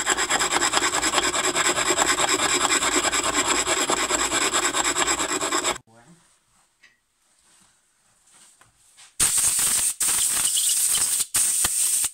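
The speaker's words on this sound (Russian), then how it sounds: "Шлифану на мелком круге." A part of a K-151 carburetor is ground on a fine wheel with a steady, loud rasping rub. It breaks off into near silence, then comes back in short bursts.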